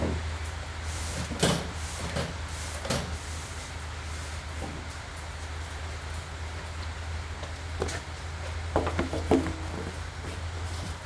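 A drawer in a dairy farm mechanic's toolbox slides open and shut, giving several sharp metallic clunks and rattles spaced across a quiet background.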